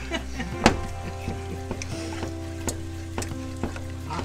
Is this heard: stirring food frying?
yes